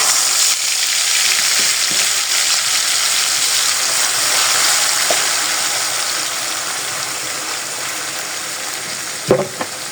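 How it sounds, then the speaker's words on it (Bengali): Marinated goat meat spitting in hot oil, a loud, dense, unbroken sizzle lasting throughout, easing slightly near the end before a brief clatter of a utensil, with no talking. "তেলটা গরম হয়ে গেছে, এখন আমি মাংসটা, মেরিনেট করা মাংসটা দিয়ে দেবো"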